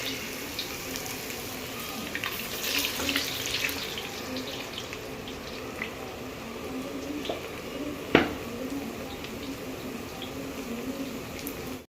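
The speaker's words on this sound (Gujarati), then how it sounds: "હવે આપણે વધેલા બટેટાને આવી રીતે તળી નાખીએ." Shredded potatoes for a fasting-style chivda fry in hot oil, a steady dense hiss and crackle that runs continuously with a sharp clink near the end.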